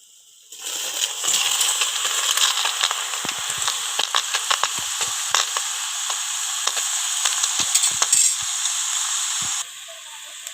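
Tomatoes hitting a hot pan on a wood-fired stove, setting off a loud, steady sizzle with small crackles and pops that runs for several seconds and then drops off, close by and without talk.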